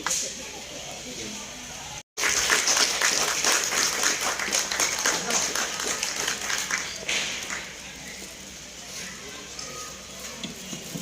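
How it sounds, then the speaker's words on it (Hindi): After a brief cut, a crowd at a high school Sir Syed Day celebration breaks into brisk, scattered clapping to welcome a guest, gradually thinning out, with some voices mixed in. "आप तालियों से उनका इस्तकबाल करें"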